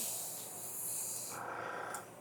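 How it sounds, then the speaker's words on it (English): Spray paint hisses steadily onto a 3D-printed Wolverine helmet in one quiet continuous burst, a soft airy spray with a slight shift in tone partway through and no talking. "So I'm doing full spray."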